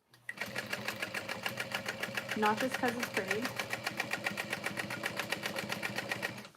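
A sewing machine runs steadily with a fast, even mechanical chatter throughout, close and prominent, while someone talks over it.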